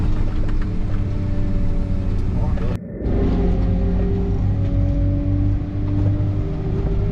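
Car driving along a highway toward a field trip in Ukraine, a steady close engine and road hum with a brief dropout partway through, and people talking over it throughout.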